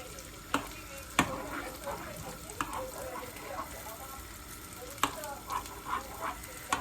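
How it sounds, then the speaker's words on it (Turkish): Highland butter melting and sizzling in a pan for spinach pırtık börek, a steady soft crackle with scattered sharp clicks and pops, with stirring noises close by. "Şöyle yağımızı eritelim."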